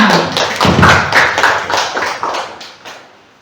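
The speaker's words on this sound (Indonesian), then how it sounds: "Mari kita kasih aplaus untuk kita semua" A group of teachers at a school gathering give a short round of applause, a brisk patter of claps that peaks quickly and fades away over a few seconds.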